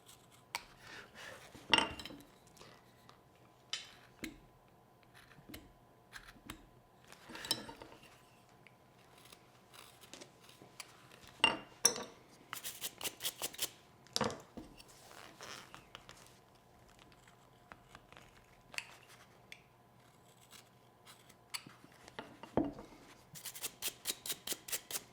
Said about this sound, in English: And taking your knife and removing all that out of there.